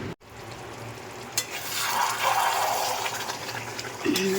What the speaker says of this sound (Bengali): আর বড় মাংস এই নাড়ানো কড়াইয়ের মধ্যে গ্রেভির সাথে কত কঠিন